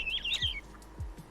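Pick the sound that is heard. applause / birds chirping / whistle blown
birds chirping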